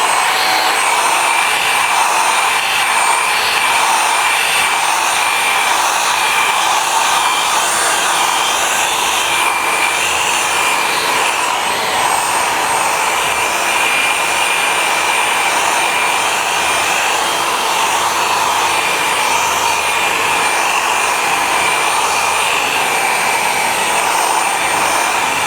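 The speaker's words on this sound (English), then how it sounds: "And now we're polishing." Power polisher working original patina paint on a classic VW Bus, a steady loud whirring drone that runs unbroken and alone throughout.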